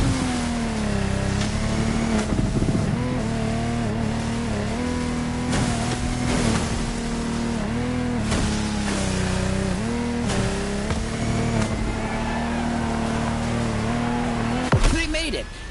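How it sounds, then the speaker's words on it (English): A Lamborghini Technomar speedboat racing in The Crew Motorfest, its engine droning loud and steady with rising and falling revs throughout, ending in a brief sharp burst, under music or commentary. "our challenger handled that gorgeous Lamborghini Technomar like a true sailor"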